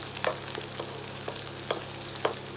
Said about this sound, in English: Add some chopped chilies. Fry until the raw smell is going away.